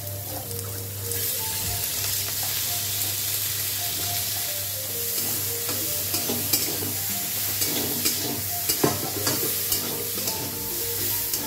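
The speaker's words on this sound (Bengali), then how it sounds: "মুগ ডালটা ভেজে নিয়েছিলাম, সেটা আমি দিয়ে দিলাম।" Fried moong dal stirred into a salted, sizzling pan, a loud, steady close frying hiss with rhythmic stirring scrapes growing sharper toward the end.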